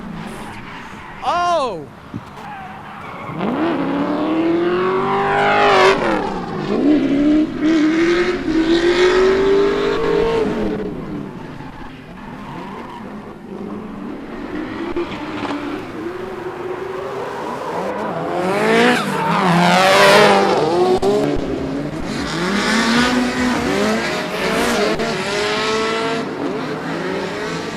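Drift cars, including Nissan S13s, skidding side by side at the final round of a drift championship, engines revving and tires squealing in long sweeping waves, with people talking and exclaiming close by.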